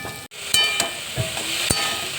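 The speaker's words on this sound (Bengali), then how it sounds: "মোচাটাকে আমি আলু দিয়ে এই যে কষিয়ে নিচ্ছি" Chopped banana flower and potatoes sauté in an oiled pan, producing a loud, close, continuous sizzle punctuated by a few sharp spatula scrapes and clicks.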